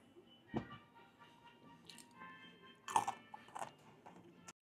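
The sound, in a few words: eating a rolled beef taco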